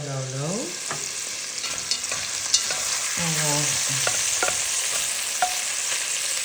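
Bacon frying on low heat in a pan for a pasta Bolognese; a steady, moderate sizzle with light crackles and pops close by, plus a couple of short tonal sweeps near the start and middle.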